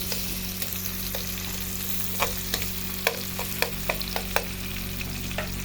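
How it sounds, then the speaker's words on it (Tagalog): Onions frying in a pan with minced garlic and another ingredient for a Filipino ginataang tuna dish, giving a steady soft sizzle with a few sharp scrapes and taps from a stirring utensil and no voices. "pwede na nating ilagay ang ating onions. Once again, halu-haluin."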